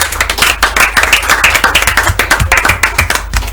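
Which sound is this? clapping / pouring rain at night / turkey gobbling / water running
clapping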